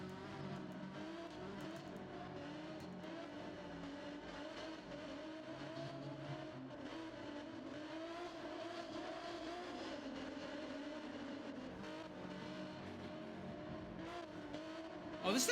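A naturally aspirated race car engine in the Gran Turismo 7 video game drones steadily at moderate volume for the whole stretch, with a sharper burst near the end, under faint talk.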